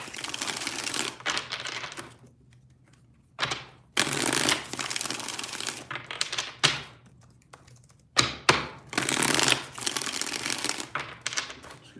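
Tarot cards are shuffled by hand in several separate bursts of rapid riffling and flicking, close and crisp, with quiet pauses between them.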